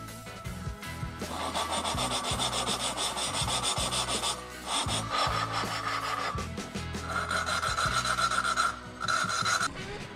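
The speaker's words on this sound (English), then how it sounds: "Basically, you have to lap the valves in." Valves being lapped into a Tillotson 225 kart engine cylinder head give a repeated gritty rasping and rubbing, close and fairly quiet, in uneven back-and-forth strokes with brief pauses between them.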